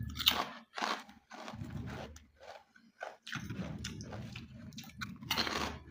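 Crunchy malunggay krupek crackers being bitten and chewed up close, a series of sharp crisp crunches in uneven bursts with short pauses between bites.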